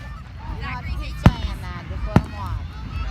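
Distant fireworks bursts, two sharp booms standing out above crowd noise and nearby chatter, with honking-like sounds in the background.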